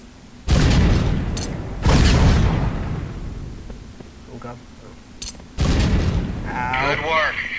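Weapons cache crates blown apart in the Delta Force Land Warrior video game: three heavy booming blasts with long rumbling decay, the last one followed by a faint voice.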